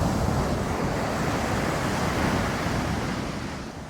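Slightly choppy sea surf washing on the shore at Alanya under an overcast sky, a continuous broadband rush with some wind buffeting the microphone, no voices.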